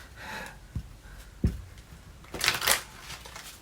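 A deck of cards being shuffled close by, with a couple of sharp riffle bursts and a longer crisp ruffle near the end, quiet handling noises in between.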